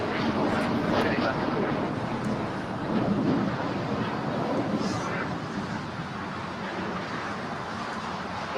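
An Alaska Airlines Boeing 737-900ER jet departs LAX for Seattle, its broad, steady engine roar filling the air at a constant loudness with a faint breezy hiss, no voices over it.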